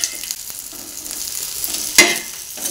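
Okra (bhendi) sizzles gently on a small, full pan, with a low steady fry and one sharper scrape of stirring near the end, close up with no voices.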